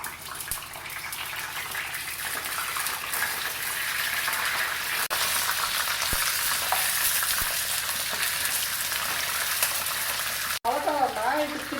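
Whole capsicum peppers frying in oil in a pan, a loud continuous sizzle with a few stirring clicks, close up, and a brief voice near the end.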